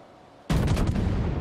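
Warship guns fire in World of Warships: a sudden loud booming salvo with a few rapid overlapping blasts, then a rumbling decay.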